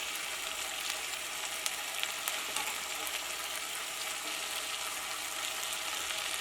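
A pan of potato masala with added water bubbles and sizzles steadily, a continuous close crackling hiss with no talk over it.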